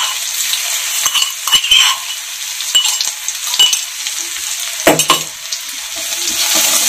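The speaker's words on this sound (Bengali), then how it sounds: "রসুনের গন্ধটা জানি চলে যায়, এভাবে ভেজে নিতে হবে।" Six or seven crushed garlic cloves fry in oil in a pan, a bright hiss punctuated by scraping stirs and a few clinks of a utensil against the metal, no talk.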